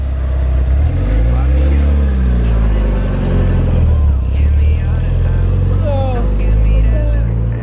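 Mitsubishi Lancer Evo 9 wrapped in color shift vinyl pulls away with a loud, steady engine drone and rising revs, heard up close and alone.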